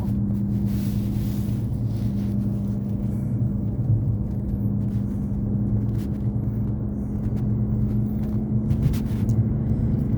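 A car travels along a winding mountain road, its engine and tyres making a steady low rumble from inside the cabin with no break, and some wind noise mixed in.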